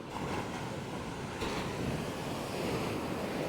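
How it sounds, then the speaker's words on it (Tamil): Strong sea waves surging near the shore at Maruthamunai, a continuous rough wash of surf mixed with wind buffeting the microphone, loud and close with no talk. "அலைய பாருங்க கடுமையாக அலையாக இருக்குது"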